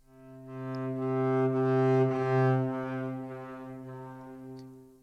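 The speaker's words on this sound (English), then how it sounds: "One of the more special playing styles is the Luray, which is playing slight portato under the same bow with slight stops between the notes." Bowed strings played loure style, gently pulsed portato notes under a single bow with slight breaks between them, forming a warm sustained tone that rises and eases over a few seconds, with no talking.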